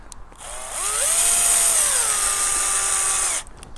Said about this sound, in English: So all you got to do is shove the screws in.